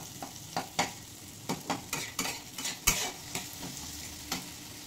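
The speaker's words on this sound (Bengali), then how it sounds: "তো বন্ধুরা কিছুক্ষণ ঢেকে ভেজে নিলাম।" Vegetable greens frying in a covered pan, a village-style Bengali leafy greens dish, with a steady low sizzle under repeated sharp stirring scrapes and clicks of a utensil against the pan, close and moderately loud.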